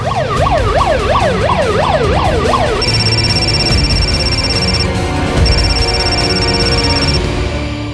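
A loud ambulance siren in a crime drama: a fast rising-and-falling wail that shifts to a steady high two-tone blare, close and continuous, with traffic underneath.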